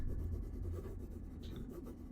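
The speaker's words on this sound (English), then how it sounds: "It sounds like they just took the sound of somebody drawing with a pencil and they looped that." A looped pencil-drawing sound from the video game The Longing, a soft, continuous scratchy graphite rubbing on paper with a faint repeating rhythm, close and quiet.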